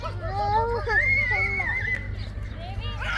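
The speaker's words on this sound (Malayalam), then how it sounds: "കുതിര ഉണ്ട് കേട്ടോ ഇവിടെ, കുതിര." A horse whinnies close by in a quiet outdoor setting, its rising and falling neigh standing out clearly over a low steady hum, with people talking nearby.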